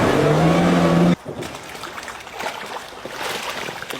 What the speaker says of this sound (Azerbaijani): Buradan maşın gidiyor.